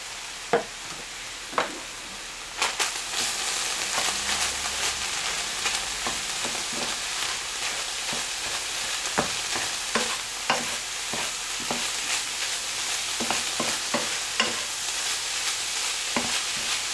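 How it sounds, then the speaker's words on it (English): Seasoned food fries in a pan with a steady, bright sizzle, broken by repeated clicks and scrapes as it is stirred and mixed around, close and alone. "Just mixing it all around, making sure it's completely cooked off."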